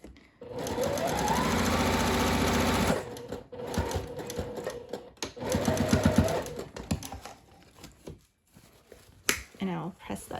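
A sewing machine stitches a seam on reversible shorts in a long, steady burst of rapid mechanical stitching, then shorter bursts with pauses and handling sounds between them.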